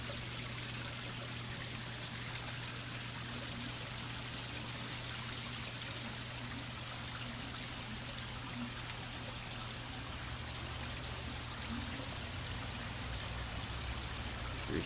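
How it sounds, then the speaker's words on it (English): Continuous rushing water, a steady even wash of falling water heard at a moderate distance, with a faint constant hum underneath. "Are you hiding under that waterfall?"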